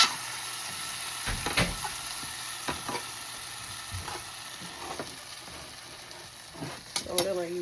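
Pork sizzles steadily in a pan, a continuous crackling hiss broken by scraping stirs and clanks of a utensil against the pan, close and fairly loud.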